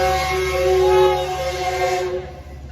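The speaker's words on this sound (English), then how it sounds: "The train." A loud train passes near a beach, its horn blaring with strong tonal blasts over rumbling wheels, then fading out after about two seconds.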